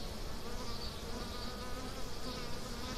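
Honey bees buzz during a beehive inspection, a continuous dense swarm hum surrounding the listener at moderate volume with no talk.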